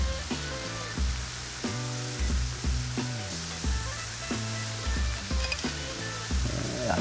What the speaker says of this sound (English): Now we're gonna put the anchovies inside